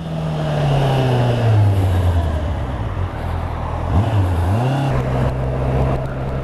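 A Honda CB650R motorcycle rides in sixth gear with a steady, droning engine note. Loud wind and road rumble run throughout, and the pitch dips and rises once.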